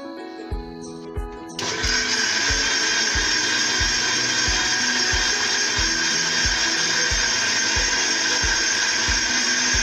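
A blender whirs on after a couple of soft knocks and runs at a steady, loud, high whine to the end, mixing moringa leaves with jaggery syrup for halwa.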